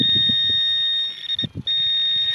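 A Garrett AT Max metal detector gives a loud, steady high-pitched signal tone over a buried target at an abandoned bush school, briefly breaking off and resuming, with low scraping and rustling of digging underneath.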